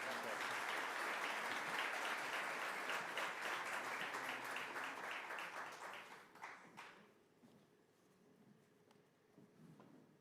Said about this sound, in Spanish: les pedimos otro fuerte aplauso